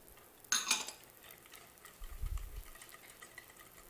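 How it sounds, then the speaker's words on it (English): A hand whisk beats eggs with brown and white sugar in a bowl, giving one quick metallic clinking stroke, then a softer, low scraping stir a moment later in an otherwise quiet kitchen. "we'll whisk those together"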